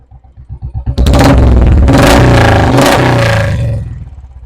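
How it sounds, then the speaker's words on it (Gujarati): A Royal Enfield Classic 350 motorcycle engine idles with a steady thump, then is revved hard and held loud and close for a few seconds before easing back down, with no talking. "આપણે એક્સિલેટર આપીએ ત્યારે કેવો અવાજ આવે છે એ તમને સંભળાવી દઉં"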